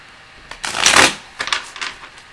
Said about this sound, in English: 2 shuffles this time